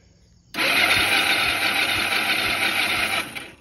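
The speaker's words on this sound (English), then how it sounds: "I'll give it a few turnovers if the battery's not dead." Kawasaki Bayou ATV engine cranking on a low battery, starter kicking in abruptly and whirring steadily for about three seconds with a faint rhythmic thump on each turnover, then winding down.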